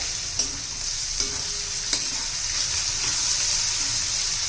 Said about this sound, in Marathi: पांढरे तीळ घालायचे ते चांगले तेलात परतून घ्यायचे तळून घ्यायचे